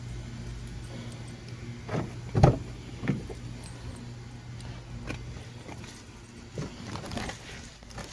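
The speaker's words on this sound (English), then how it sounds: "Let me get my keys out so I can get in the van." Keys jangle as they are pulled out beside a van, a few brief metallic rattles with one louder clink near the middle, over a steady low hum of road or engine background.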